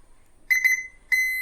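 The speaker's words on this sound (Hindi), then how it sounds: "कॉइल भी चेक करने पे बीप की साउंड दे रही है" Continuity beeps from a multimeter testing the coil on a mobile phone board: two quick close beeps followed by a longer steady tone, clear and alone.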